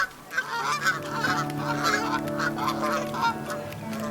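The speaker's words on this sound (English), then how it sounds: "I was spotted by the pack of Canada geese that I have gotten to know quite well now." A pack of Canada geese honks repeatedly by the Thames River, with loud, close, overlapping calls in quick succession.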